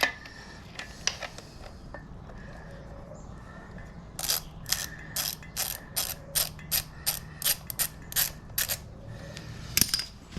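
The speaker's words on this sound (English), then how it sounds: "so you need TX40 spline tool, and slacken these bolts off underneath" Ratchet loosening TX40 bolts under the front of a KTM 1290 motorcycle, a run of quick clicking ratchet bursts in a steady rhythm, close and crisp, with a few metallic clinks before and after.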